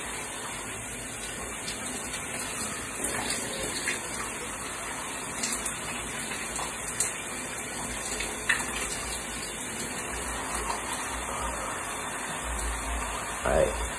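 Shower water runs steadily while hair is rinsed, a constant close hiss and splatter with occasional small knocks and no talking.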